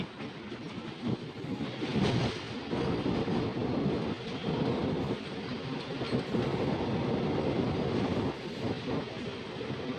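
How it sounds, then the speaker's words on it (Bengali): A MEMU passenger train rumbles through tunnel number three on the Asansol–Varanasi line, a loud, steady roar of wheels and carriages echoing in the enclosed bore for the whole stretch, with faint rhythmic clatter. "টানেল থেকে বেরোচ্ছি মেমু ট্রেনে"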